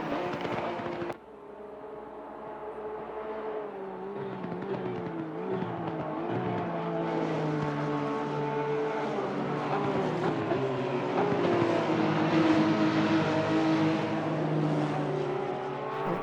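A Porsche 911 race car engine in a sim racing game drones steadily and loudly for the whole stretch, with rising and shifting harmonic tones as it revs, kicking in abruptly after a brief opening moment.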